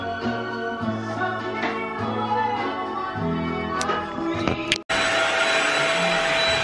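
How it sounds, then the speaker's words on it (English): A vacuum cleaner sucking glitter off a table runs close by with a loud steady whine and shifting hum as it moves, a brief cut-out, then droning on. "that they have to vacuum the glitter off the table?"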